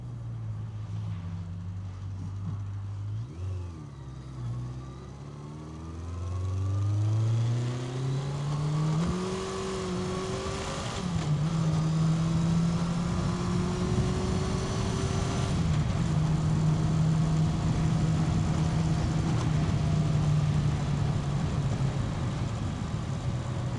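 A 1980s Yamaha XJ900 motorcycle engine running while riding on a damp road, droning steadily and rising in pitch through the gears, with wind rush building as speed increases.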